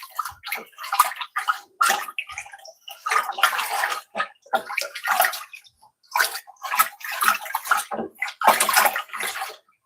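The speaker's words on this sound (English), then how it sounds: "Let's stir this up a little bit." Liquid being stirred in a bucket in a pottery studio, loud close sloshing and swirling water in rhythmic surges with brief pauses between strokes.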